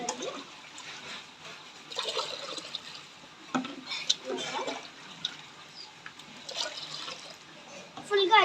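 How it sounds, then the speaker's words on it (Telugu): Water running into a container being filled for jeevamrutham, a bright splashing trickle heard under a woman's speech, fairly close, with drips and gurgles rising toward the end. "ఫుల్గా అయితే వాటర్ పట్టుకున్నాము."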